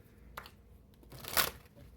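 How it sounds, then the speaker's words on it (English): Tarot cards being shuffled during a reading, heard as a short, crisp riffling burst near the end of a quiet stretch, with a fainter flick of cards earlier and no talking. "I think we'll do one more shuffle."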